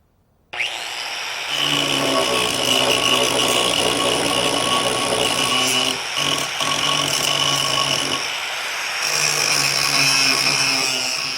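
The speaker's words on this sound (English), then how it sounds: "the angle grinder makes quick work of each of these three tasks" An angle grinder grinds a flat weld bead off a steel plate in a loud, steady whine that runs almost without a break, with two short dips in load along the way.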